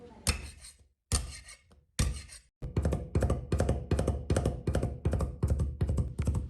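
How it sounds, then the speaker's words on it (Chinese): Three or four garlic cloves crushed flat with a knife, then chopped on a board: three separate heavy whacks, followed by a fast, even run of close, sharp chopping thuds. "3、4粒大蒜，用刀拍匀剁碎。"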